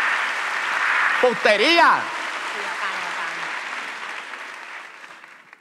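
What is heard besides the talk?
applause for a guest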